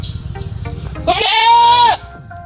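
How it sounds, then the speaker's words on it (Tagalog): A goat gives one long, loud wavering bleat close by, preceded by low rumbling background noise, on a farm in Palawan. "So, ito yung bago nating kambing."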